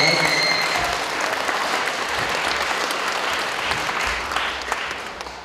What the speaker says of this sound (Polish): Ja myślę, że wielkie brawa dla Piotra